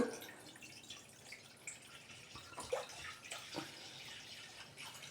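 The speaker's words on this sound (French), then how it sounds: "J'y mets un demi-litre de vin rouge." Red wine is poured into a pot for a country-style potée, a faint liquid splashing and trickling with a few soft drips, quiet and close with no voices.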